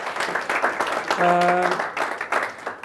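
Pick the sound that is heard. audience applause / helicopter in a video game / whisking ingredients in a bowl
audience applause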